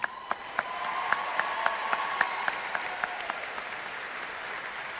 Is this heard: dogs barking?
no